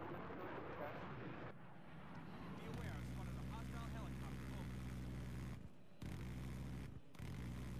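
Helicopter in the Battlefield game on the Caspian Border map, a steady low rotor and engine drone with a few sudden dropouts, heard faintly under speech.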